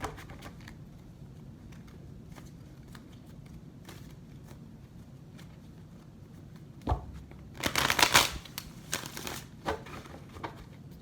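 Tarot cards being shuffled by hand for a reading: soft rustling and slides at first, then a burst of crisp riffling near the middle, followed by a few short flicks, all close and unaccompanied by speech.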